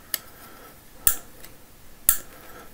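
Sharp, crisp clicks from the mechanism of a Sharp By Design Mini Evo folding knife: a faint tick, then two louder clicks about a second apart, close and isolated in a quiet room.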